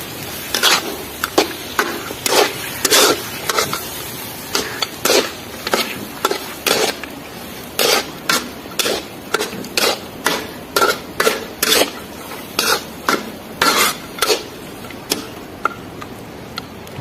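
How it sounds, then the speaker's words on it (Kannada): Mutton being stirred into masala in a pot for a Malnad-style curry, giving steady rhythmic scraping and clacking strokes with a light sizzle beneath, heard alone and close. "ಮಟನ್ ಚೆನ್ನಾಗಿ ಮಿಕ್ಸ್ ಆಗಲಿ ಎಲ್ಲ ಮಸಾಲೆಗಳಿಗೆ"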